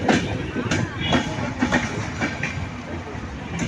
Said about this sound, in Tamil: ஈரோடு ஜங்ஷனுங்க கரெக்டாக எட்டு மணிக்கு வந்துருச்சுங்க வண்டி